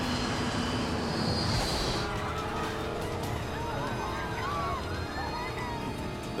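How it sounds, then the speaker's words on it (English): An airliner loses altitude and falls from the sky during a disaster over the Potomac, a loud, steady roar of engine and rushing air filling the whole stretch with a dense, turbulent wash. "The plane is losing altitude and falling out of the sky."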